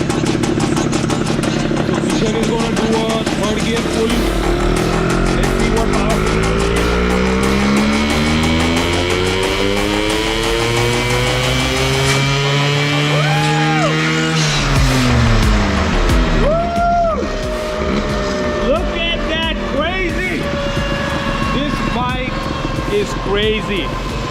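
An Activa 6G scooter engine revs hard on a dyno during a third gear pull, its loud drone climbing steadily in pitch, cutting back sharply, then revving up again.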